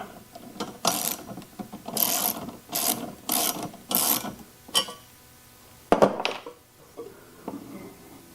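A stop bolt being tightened on a Sabretooth ProSetter blade setter, a run of about seven ratcheting clicks in quick bursts, then a couple of sharper metallic knocks and lighter clicks, close and alone.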